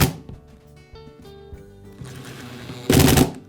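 An electric screwdriver runs in short whirring bursts while driving screws into the cover of a Makita hammer drill, ending with one louder, buzzing burst close by.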